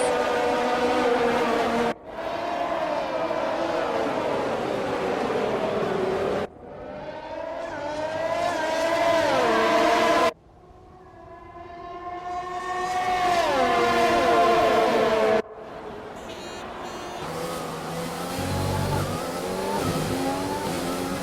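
Formula 1 car engines from the F1 2020 racing game at a Vietnam circuit, loud high-pitched wails rising through gears with sharp cuts at each shift, several long climbing passes in sequence.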